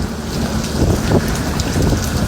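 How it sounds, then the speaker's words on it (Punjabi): Steady rain falls continuously outdoors in Punjab during a morning storm with hail, a dense, even wash of drops close by with no talk. "ਲਗਾਤਾਰ ਜੀ ਸਵੇਰ ਤੋਂ ਮੀਂਹ ਪੈ ਰਿਹਾ ਜੀ"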